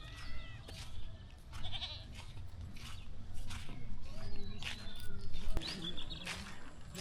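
Goats on a rural farmyard bleat several times in short, scattered calls, some close and some farther off, with birds chirping in the background and no clear speech.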